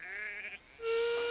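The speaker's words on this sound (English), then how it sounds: "Duncan clickety-clacked through the countryside with his sheep." A sheep bleats in an animated Thomas the Tank Engine episode, a short nasal cry close by, followed by a steady whistle-like tone from the engine.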